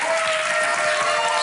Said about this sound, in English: Standing ovation from the crowd.